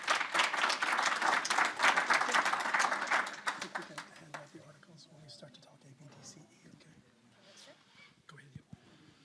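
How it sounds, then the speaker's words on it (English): Audience applause at a French panel talk on fiction and future threats, dense clapping for the first four seconds that thins into scattered claps and murmuring with quiet voices in the room. "vous pouvez donc les applaudir"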